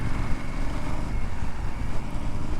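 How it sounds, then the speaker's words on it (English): Steady, loud engine drone with a rough low rumble and wind buffeting, like a motorcycle heard up close while riding a 2025 Indian Scout 101. "you can just feel the engine, you can hear the engine."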